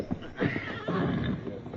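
A horse whinnies loudly and close in a wavering, drawn-out neigh, with a few hoof clops beneath, all under a radio western's scene.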